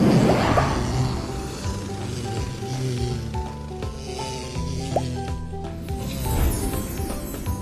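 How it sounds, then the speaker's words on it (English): Soap bubbles popping in the Go!Kids Academy video game, soft wet squishy pops and light sizzling scattered over gentle background music. "Pop the soap bubbles with objects inside."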